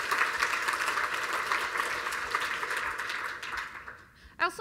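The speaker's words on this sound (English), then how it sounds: "So let's give them a huge round of applause." Conference audience applause at the Warm Gun 2014 design talk, a full clapping wash that holds steady, then fades over the last second before a single closer sound near the end.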